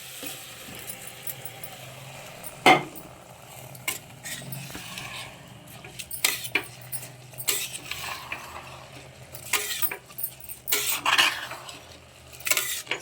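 A spoon scrapes and clanks inside a pot as soaked rice is mixed into mushroom masala for pulao, irregular metallic stirring knocks over a faint low hiss, with no talking.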